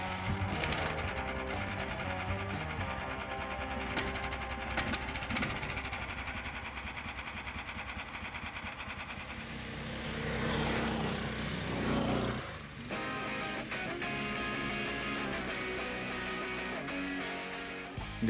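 A new 2022 Baltmotors motorsled, a Snowdog or Barboss, runs with a steady, faint mechanical whir and hum that swells briefly partway through, with no talking.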